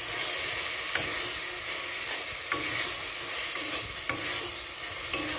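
Pea paste with spices being sautéed in a pan, a steady close sizzle with a few sharp scraping stirs at regular intervals and no talking.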